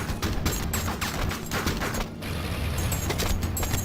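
Rapid bursts of gunfire from the video game Thrillville: Off the Rails, dense crackling shots repeating steadily near and loud, with a brief lull in the middle before the shooting resumes.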